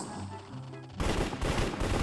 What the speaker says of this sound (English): Oh, look, shooting going on.